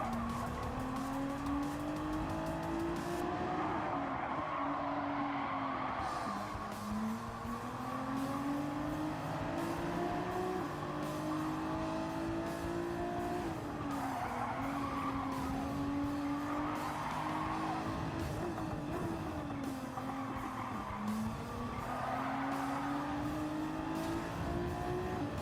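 Race cars in Gran Turismo 7 lap Deep Forest Raceway in a Nations Cup race, with a loud, continuous engine whine that rises and falls through shifts and corners and occasional tire squeal, with no talking.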